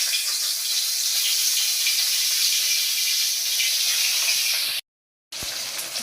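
Fish sizzle after being dropped into hot oil in a kadai, a steady, loud, close hiss that runs unbroken, cuts out for a moment, then resumes.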